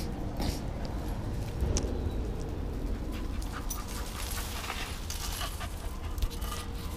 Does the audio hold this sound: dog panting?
yes